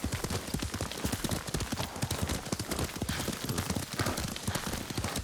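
Horse hooves beat in a fast, steady gallop while riding in the video game Ghost of Tsushima, close and loud with a continuous rhythmic clatter and no voices.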